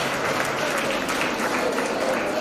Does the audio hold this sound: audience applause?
yes